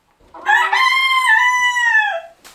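A Light Sussex rooster on a farm gives one full crow, loud and close, rising then holding a long drawn-out note before trailing off, with no other sound around it.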